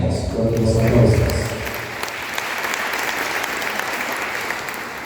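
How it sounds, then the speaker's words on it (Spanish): A crowd at a Council of Elders gathering in Caxhuacan, Puebla, Mexico, breaks into loud applause that swells and then settles into steady clapping, with a few voices briefly heard at the start. "fuertes aplausos"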